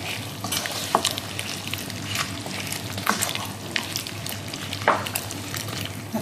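Mixed vegetables, carrots among them, frying in a pan for homemade sambar give a continuous close sizzle broken by several scraping strokes of stirring, with no voices.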